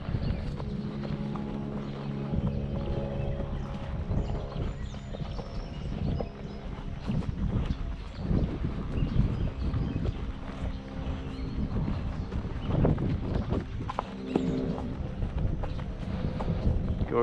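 A horse walks across a farm pasture under a rider, its hooves clip-clopping in a steady soft rhythm beneath constant wind rumble on the microphone.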